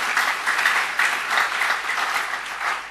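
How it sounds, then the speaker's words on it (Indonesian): Church congregation clapping during a sermon, a steady rhythmic round of applause pulsing evenly from start to finish. "Beri tepuk tangan kalau amin."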